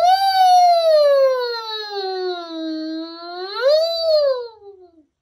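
A single voice imitates a siren, sliding slowly down in pitch, then swooping up and falling away again, clear and alone.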